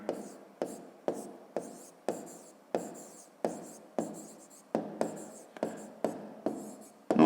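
Pen or pencil writing out a subtraction check in a 5th-grade maths exercise, a steady run of short scratchy strokes repeating about twice a second, close and clear with no talk over it.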